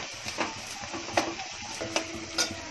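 Onions fry in a pan for a dry prawn chutney, a soft steady sizzle broken by a few quiet stirring scrapes, heard up close with no talking.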